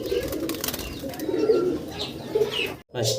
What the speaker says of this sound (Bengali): আমরা এক জোড়া ঘুঘু পাখি দেখতেছি